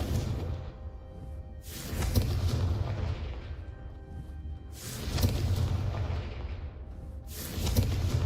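The Confringo fire spell in Hogwarts Legacy sets off three loud, booming fiery blasts at regular intervals, each a sharp burst trailing into a roaring decay.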